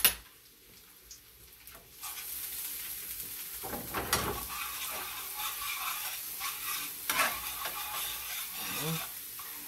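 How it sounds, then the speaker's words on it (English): Garlic sizzles and fries in a pan, a steady hiss rising from about two seconds in, with occasional stirring scrapes breaking through. "So we're going to fry garlic first."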